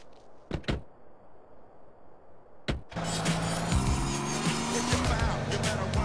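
A car in the video game GTA San Andreas: a few door thunks over quiet ambience, then the engine starts and revs loudly with shifting tones as it pulls away, continuing to the end.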